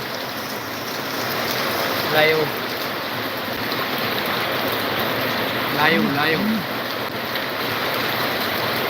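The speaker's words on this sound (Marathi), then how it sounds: "जबरदस्त पाऊस आहे पाऊस काय थांबायचं नाव घेत नाही" Heavy rain pours down in Latur, heard from a rooftop as a dense, steady hiss filling the whole stretch, while someone speaks briefly twice over it.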